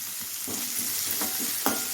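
Curry leaves and onion fry in oil with a constant crackling sizzle up close, broken by a few sharp scrapes and taps of a stirring spoon.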